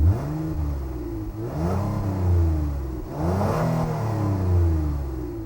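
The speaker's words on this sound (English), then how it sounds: "The exhaust note gets a little extra growl." A 2019 Honda Passport Elite V6 revs up twice with a deep, growling exhaust note, each pull rising in pitch before easing off, loud and close.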